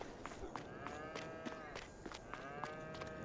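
Cows moo repeatedly at the cow facility in Farming Simulator 22, a farm video game, with several overlapping calls rising over a steady background hum, moderately loud and close with no talk.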